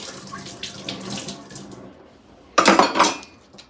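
Running tap water splashes over dishes in a sink during a home daily routine, with clinking of pots and cutlery; a softer wash runs first, then a loud close burst of water and clatter near the end.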